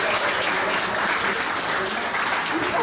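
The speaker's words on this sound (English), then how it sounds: "Give her a round of applause" Steady, dense applause from a family reunion audience at a Cagaanan clan gathering, filling the whole moment at close range without letup.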